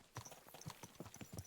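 Horse hooves clip-clopping in the medieval video game Kingdom Come: Deliverance II, a steady galloping rhythm of close, distinct thuds with no talking over it.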